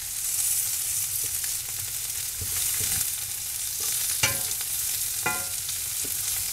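Mushrooms sizzle in a hot frying pan as they are pushed around, a steady fry punctuated by several scraping, clattering stirs close by.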